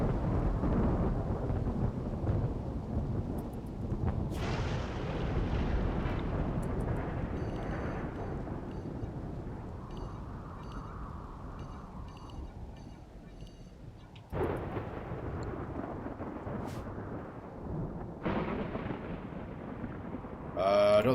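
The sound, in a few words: thunderstorm with lightning in the video game RimWorld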